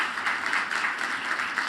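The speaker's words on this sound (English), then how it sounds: "I wanted to see if we could give a round of applause for the broadcast production team" An audience gives a steady round of applause for a broadcast production team, with dense, even clapping and no pauses or talk.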